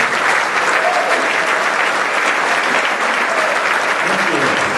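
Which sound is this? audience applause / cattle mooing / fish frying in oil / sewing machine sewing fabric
audience applause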